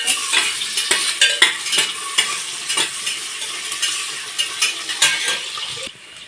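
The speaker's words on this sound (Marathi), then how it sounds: "ह्याच्यामध्ये कांदा परतायला टाकला" Onions frying and sizzling in a pan for biryani, with repeated scraping stir strokes at a steady rhythm, close up, no voices.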